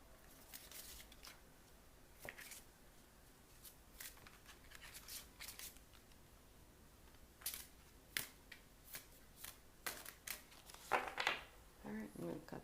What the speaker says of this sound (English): All right, I'm going to cut the deck.